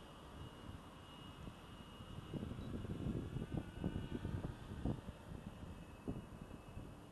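A Hyperion Vengeance 280 RC plane on its maiden flight gives a faint, distant whirring engine drone that swells for a few seconds in the middle and then fades, set against light wind noise.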